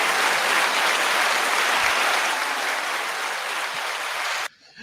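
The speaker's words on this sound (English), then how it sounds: "Give him a round of applause, everybody." Dense, steady applause from a podcast audience for a co-host, loud and continuous for several seconds before cutting off abruptly.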